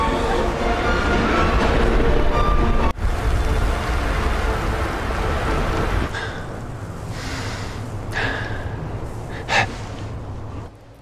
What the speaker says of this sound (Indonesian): tiba-tiba badai kembali datang